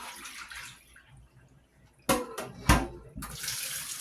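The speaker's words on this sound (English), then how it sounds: "So we're going to pour this water on off of them." Soaking water poured off pork neck bones in a kitchen, a couple of short splashing gushes over a low background hum, moderately close, with no talking.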